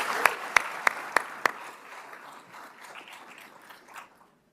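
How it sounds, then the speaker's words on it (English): Audience applause after a national anthem performance at a military ceremony: a few sharp, close hand claps ring out first, then a broader wash of clapping that gradually thins and fades out near the end. "let's give Mr. Drake a big round of applause"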